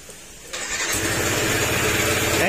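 A Yamaha NMAX 155 scooter with an abnormal drive noise starts up and settles into a rough, buzzing idle, loud and close, with a harsh rattling hum running steadily underneath.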